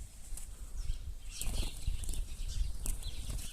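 A released wild bird, a grey shrike freed from a trap, flutters its wings as it takes off, soft rapid flapping bursts over light outdoor background noise.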